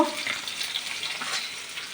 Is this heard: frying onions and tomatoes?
yes